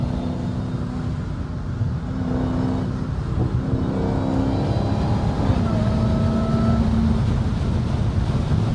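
A catless Dodge Hellcat engine drones loudly with a rising whine while driving, holding a continuous cabin roar under intermittent talk.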